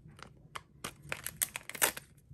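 Crinkly plastic crackling and tearing in short bursts as a nail strip packet is opened close up, with a few sharper rips toward the end and no talking.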